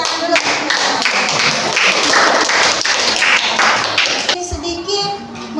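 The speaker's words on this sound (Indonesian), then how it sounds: "Oke, terima kasih, tepuk tangan dulu." Schoolchildren in a classroom clap together after a group discussion lesson, a loud, close burst of hand claps with taps and thumps mixed in, children's voices chattering alongside and the clapping thinning out near the end.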